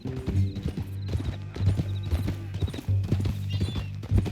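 Horse hooves clip-clop steadily in Red Dead Redemption 2, a loud, close, rhythmic walking gait continuing for several seconds, with a faint whinny or two mixed in.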